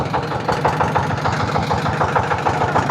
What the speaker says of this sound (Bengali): আমি কিন্তু বোট চালাইতেছি